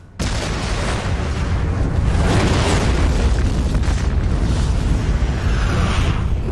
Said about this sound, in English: the explosion is implied through sound, and we only see the character's reaction to it.